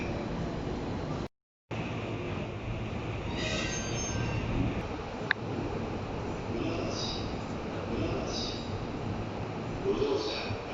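A Tozai Line subway train pulls out from platform 1 at Funabashi Station, a steady rolling rumble with faint wheel squeal and clatter running throughout, under platform announcements and station chimes.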